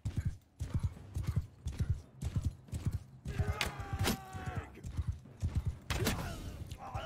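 Galloping horses in the battle game Mount and Blade 2: Bannerlord pound out a rhythmic run of hoofbeats, loud and near, with scattered clanks and a whinny mixed into the charge.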